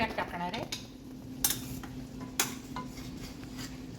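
Ground fresh coconut mixed with coriander powder and pepper powder tipped into a pan for a Goan Saraswat vegetable dish, with soft stirring and scraping, a faint sizzle and a few sharp utensil clinks against the pan.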